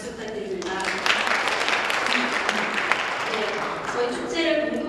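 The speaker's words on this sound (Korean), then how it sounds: "박수 부탁드립니다." An audience claps at a community media forum in Seoul, a sustained, fairly loud wash of applause lasting several seconds.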